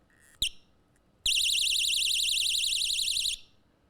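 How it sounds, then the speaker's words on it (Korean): A brief chirp, then a sharp click, then a handheld personal safety alarm shrieks with a loud, rapidly warbling siren tone for about two seconds before cutting off. "불빛과 함께 경보음이 크게 납니다"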